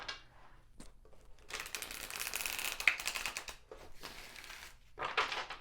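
Tarot cards shuffled by hand during a reading, a run of dense papery riffling and snapping bursts with brief pauses between, close and fairly loud with no talking.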